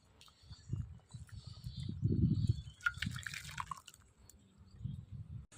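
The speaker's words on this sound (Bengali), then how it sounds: "এবার ঢেলে নেব।" Fish curry finished with roasted cumin powder is poured out of the pan, giving soft wet slops and drips that are fairly quiet and close, with a few light clinks.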